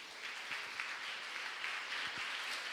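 Steady audience applause at a festival talk, a dense even wash of many hands clapping at moderate level throughout with no voice on top.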